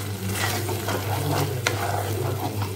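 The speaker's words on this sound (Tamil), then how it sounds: "நல்லா கலந்து விட்டுக்கலாம்." Poured masala frying and being stirred in a pan for Tamil-style fish curry, a steady close sizzle with soft scraping stirs throughout, no voices.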